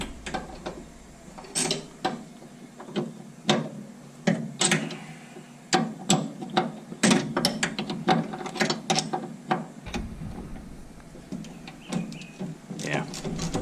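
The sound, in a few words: 9/16 wrench turning bolt on 1967 Mustang suspension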